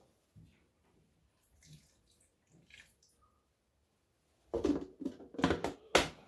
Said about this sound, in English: I'm going to do now is add a bit of water to soften the paste up.